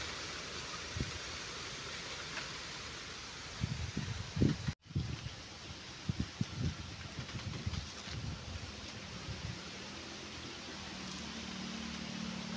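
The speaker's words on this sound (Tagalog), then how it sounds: "Lakas ng hangin" Steady strong wind gusting outdoors in light drizzle roars across the microphone, with rustling and a sharp buffeting thump midway; no voices.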